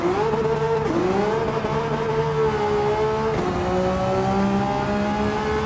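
Maserati MC20 super sports car in Gran Turismo 7, a loud, continuous high-revving engine whose pitch climbs, then drops sharply at each gear shift, twice across the run, with no talking.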